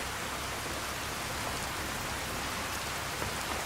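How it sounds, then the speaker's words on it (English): Steady rain falls in the video game Tale of Two Wastelands, a dense, even hiss of drops on surfaces with a few faint individual patters, constant and unbroken. "I got the rain. It's raining."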